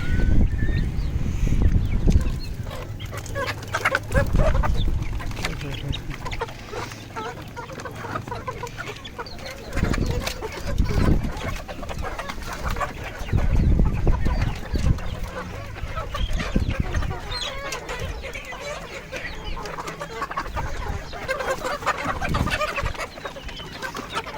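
A flock of desi chickens clucks busily and continuously while gathering to eat leftover roti, with overlapping calls near and far and an occasional rooster crow.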